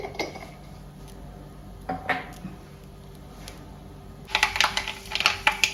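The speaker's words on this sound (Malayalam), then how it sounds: "ഇപ്പോൾ കടുക് പൊട്ടിയിട്ടുണ്ട്." Mustard seeds crackle in hot sesame oil for tomato thokku, scattered sharp pops and ticks that turn into a denser, louder burst of popping toward the end, with no talking.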